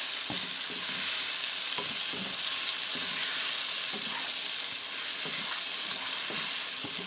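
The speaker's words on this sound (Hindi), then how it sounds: "दो से तीन मिनट तक अच्छे से भूनेंगे।" Chicken seasoned with salt and black pepper sautés in a pan with a loud, continuous hiss and sizzle, with faint scraping stirs at intervals and no speech.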